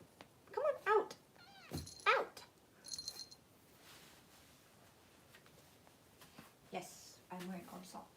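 A house cat gives a couple of short, faint meows early on, heard close by in a quiet indoor room, with a person talking softly around them.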